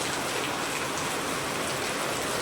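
Steady, dense rainfall patters on surfaces nearby, an even wash of noise with no pauses across the short stretch.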